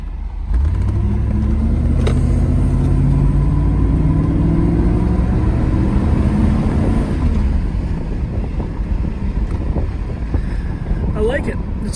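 A 1980 Mercedes-Benz 450 SL drives with a steady engine drone and rising, shifting tones as it accelerates through gears, heard from inside the car under heavy wind and road noise.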